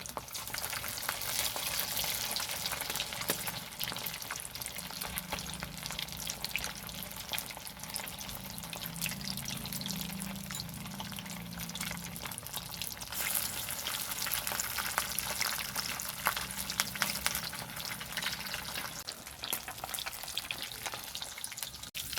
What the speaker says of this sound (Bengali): মাছগুলোকে এইভাবে ভেজে নেবো